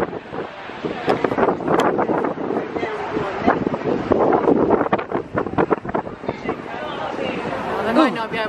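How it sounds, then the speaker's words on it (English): Heavy outdoor wind buffets the microphone in a steady, loud roar that rises and falls, with people talking underneath it throughout. "It's quite windy."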